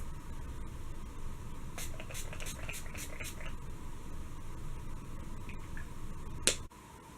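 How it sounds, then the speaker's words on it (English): Mario Badescu rose water setting spray hisses from a pump bottle in a quick burst of about six close spritzes in a row. A sharp click comes near the end against a quiet room, and no one talks. "I'm going to use the Mario Badescu Rose Water Spray and set my makeup with this"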